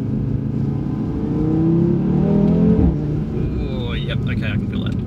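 A tuned Audi RS3 accelerating hard, its engine drone heard from inside the cabin rising steadily in pitch before easing off, with someone talking over the end.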